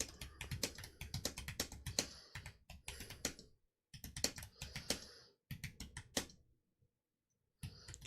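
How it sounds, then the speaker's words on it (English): Quiet, close keyboard typing with bursts of rapid key clicks broken by short pauses, loud individual taps standing out against near silence. "Can you guys hear the typing?"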